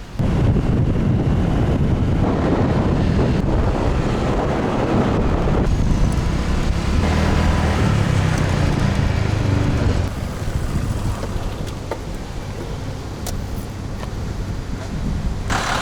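Constant heavy wind buffeting a microphone while riding a scooter, a dense low roar that persists throughout, slightly easing near the end.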